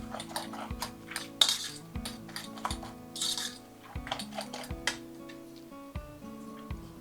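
A spoon stirs a seasoning broth mixture in a bowl, with close, ringing clinks and scrapes against the side in an uneven rhythm, some louder taps standing out, with no talk.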